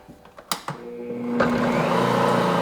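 A stand mixer works flour made from hard red wheat, hard white wheat and spelt into dough. A few knocks come first, then the motor whirs up and settles into a steady, loud hum with a clear tonal whine.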